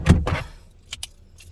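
A set of car keys jangles close up in a short metallic rattle, beside a 2023 Ford Ranger XL 4x4 pickup, followed by a couple of lighter clinks.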